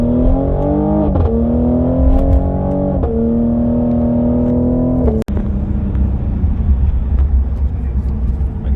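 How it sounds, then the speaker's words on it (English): A Cadillac CT5-V's twin-turbo engine and loud exhaust rev and drone close by, pitch climbing in steps between gear changes, then dropping to a rough rumble with a voice faintly beneath. "It's the V series, so it has a louder exhaust."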